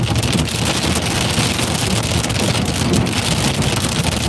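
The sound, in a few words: hail hitting the car and trees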